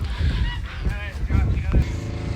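Several geese honk in short harsh bursts, close by, over a rumbling low background.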